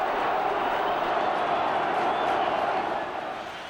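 A large football crowd roars and cheers continuously at steady volume, a dense wash of voices that eases slightly toward the end.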